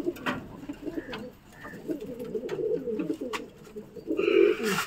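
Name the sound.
male pigeons being released from cages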